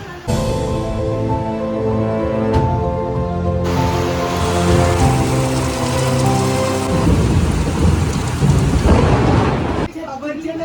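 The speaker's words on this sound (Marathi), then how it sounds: "पाऊस बघा" Heavy rain pours down steadily on a Diwali evening with rolling thunder rumbling through it, loud and continuous, while a voice talks faintly underneath; the downpour grows harsher toward the end.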